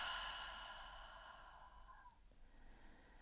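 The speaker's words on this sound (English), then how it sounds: "let's take a deep breath together" A slow, deep exhale during a guided breathing practice, a soft airy sigh that gradually tapers off, faint and close with no speech.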